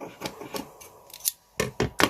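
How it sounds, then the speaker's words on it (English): Fabric scissors trim a piece of fabric for a pop lace double pocket card: several crisp, close snips in an irregular rhythm with short pauses between cuts, no talking. "So I'm going to trim this down and get my fabric scissors."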